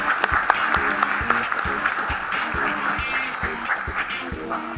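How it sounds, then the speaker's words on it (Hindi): An audience at an educational program in Dubai claps, steady moderate applause with some sharper individual claps standing out, heard at a little distance. "सबके लिए तालियां बजाएं"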